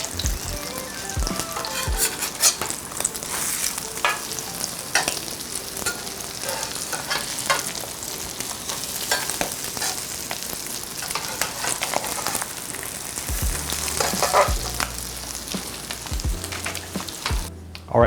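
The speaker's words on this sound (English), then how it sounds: "I'm gonna cook the croquettes about 3 or 4 minutes per side" Salmon croquettes frying in a pan give off a steady, loud, dense sizzle with crackles throughout, plus a few clatters near the end as they are flipped.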